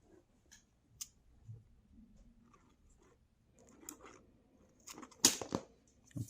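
Scissors snip through a rubber wiper blade refill strip to trim it to length, a few quiet clicks followed by one sharp, close cut.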